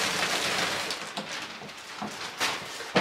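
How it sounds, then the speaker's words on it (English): Crinkly, rustling plastic as a rain cover is pulled off a Louis Vuitton Keepall 45 bag, continuous and close, with a few louder crackles near the end. "So just take the rain cover off"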